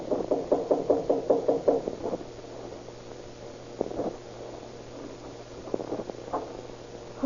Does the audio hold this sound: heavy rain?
no